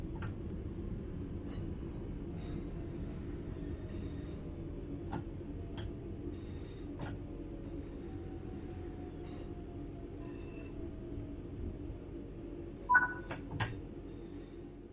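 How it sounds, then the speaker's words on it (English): A train in a train simulator video game rolling and braking gently to a stop, a steady low rumble with soft periodic clicks and a couple of brief sharper ticks near the end, no talking. "apply a small amount of braking force to gently bring this train to a stop"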